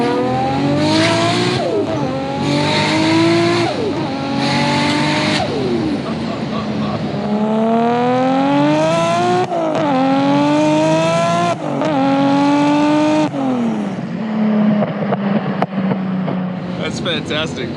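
An R32 GTR with a 750HP Australian-built 2.6L RB26 and Kakimoto catback exhaust pulls through repeated hard gear runs, each rising wail cut by a shift, with voices talking over it.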